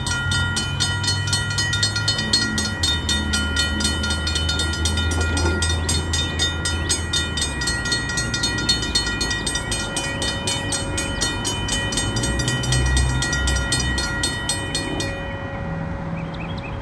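A CSX freight train rolls past up close in Georgia with a loud, steady rumble, rhythmic wheel clatter and squealing tones, easing off slightly at the end.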